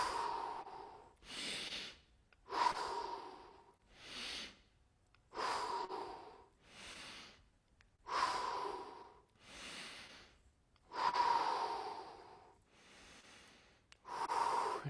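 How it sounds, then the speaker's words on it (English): Slow, deep breaths cycle in and out during a body relaxation exercise, about ten loud airy inhales and exhales with brief pauses between, close to the microphone and without spoken words. "And then inhale, tense the whole body up. Exhale, release."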